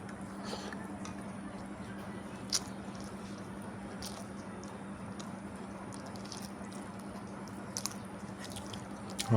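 Fried silver carp and rice being eaten at a midday meal, with close, soft squishy chewing and occasional small bites under a steady low background hum.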